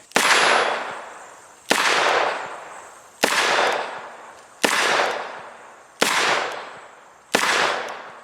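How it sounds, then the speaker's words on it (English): A Smith & Wesson Model 15-7 .38 Special revolver fires six loud double-action shots at a steady pace, about one and a half seconds apart. Each sharp crack is followed by a long decaying echo. "Let's get some shots in this thing and see how she functions. I'll do double action first."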